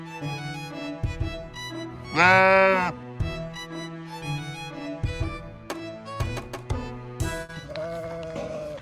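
Sheep bleating at a sheep farm cafe in Australia, one loud drawn-out bleat close by with fainter bleats and clattering sounds around it.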